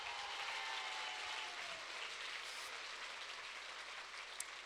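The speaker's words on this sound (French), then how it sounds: "Donc je crois que ça mérite un tonnerre d'applaudissements." Applause from the audience at a Super Mamie 2022 ceremony in Nice, a steady, dense wash of clapping that carries on without a break for several seconds, with no talk over it.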